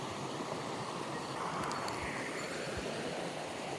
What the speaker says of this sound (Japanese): 滝壺になってる。